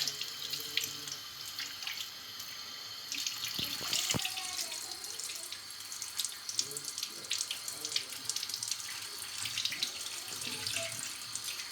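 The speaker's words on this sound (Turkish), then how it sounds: "görüyorsunuz ne kadar sarı bir su akıyor" Tap water running steadily into a sink while oven-cleaning gel is rinsed off an oven surface, a continuous close hiss and splash with brief clatter partway through.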